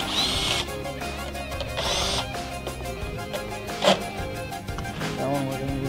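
A power tool whirs in short bursts while loosening bolts on a Chinese scooter's stator cover during a big bore kit install, with a sharp clank midway and someone talking at times.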